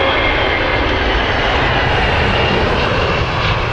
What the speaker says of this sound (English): Another 767-300. This is the New York flight.